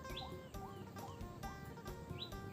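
Faint chicken calls repeat in quick, rhythmic bursts outdoors after rain, short rising chirp-like clucks over a soft background hiss, with no talking.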